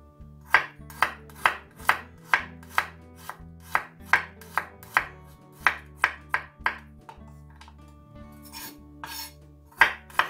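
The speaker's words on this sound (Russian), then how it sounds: "Нарежу чеснок." A knife chops garlic on a cutting board in a home kitchen, about fifteen crisp, evenly spaced taps close by in a steady rhythm, with a short pause before a last few cuts.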